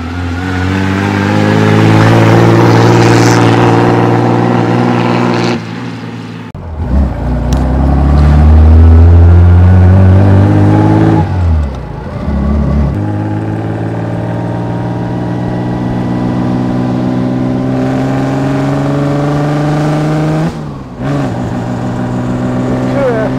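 A 1936 Wanderer W25K's engine drones steadily while driving, loud and close with rising and falling revs and a brief lull, as people talk over it.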